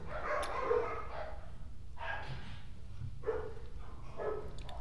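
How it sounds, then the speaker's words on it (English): Dogs bark in several short bursts at a moderate distance, spaced out over a few seconds against a steady low background hum. "Again, the dogs."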